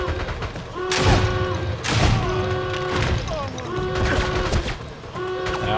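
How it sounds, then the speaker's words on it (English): Gunfire in the James Bond 007: Bloodstone video game, heavy thuds and bursts of shots recurring every second or so over a continuous background of game sound. "Oh, they're shooting at me."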